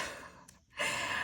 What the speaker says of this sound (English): if you hear someone snoring, that is my dog